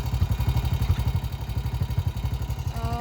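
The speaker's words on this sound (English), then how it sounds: "So got it hooked up to our four-wheeler. It's a Honda Recon." Honda Recon four-wheeler dragging a chicken tractor, its engine chugging in a fast, even pulse close by, with rattling clatter from the load throughout.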